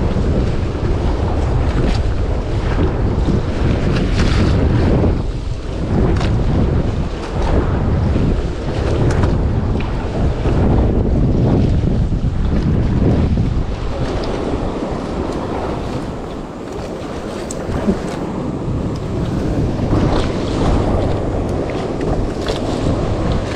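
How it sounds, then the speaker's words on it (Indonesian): Strong wind roars steadily and loudly across the microphone during a fishing outing on open water, with a blustery, gusting rush and no speech. "Tapi ngelawan angin guys. Anginnya dari selatan."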